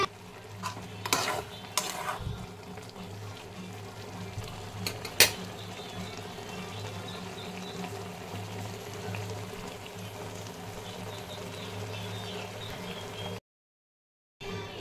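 Maggi masala noodles simmer in a pan while being stirred, a steady close bubbling sizzle with scraping stir strokes and a few louder clatters early on, continuing without talk.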